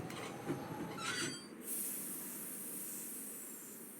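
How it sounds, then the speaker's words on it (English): A train pulls away with a rumbling roll and bursts of hissing steam in the game Last Train to Blue Moon Canyon, followed by a steady high-pitched hiss that lingers. "Sounds like the train's leaving."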